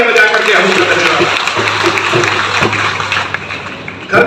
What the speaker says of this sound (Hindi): एक बार जोरदार तालियां बजा करके हम